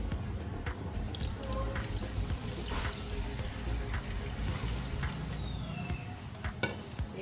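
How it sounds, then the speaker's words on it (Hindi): Water pours steadily into a pot of frying beef over a soft sizzle, a continuous splashing rush at moderate volume. "थोड़ा सा पानी डालना होगा हमें इसके अंदर। थोड़ा सा पानी डालते हैं इसमें,"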